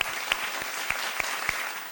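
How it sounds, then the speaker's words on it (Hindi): An audience claps on a Ramadan quiz show, a steady patter of applause with a few sharper individual claps standing out. "एक बार फिर तालियां, शाबाश"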